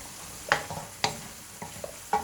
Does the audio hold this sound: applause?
no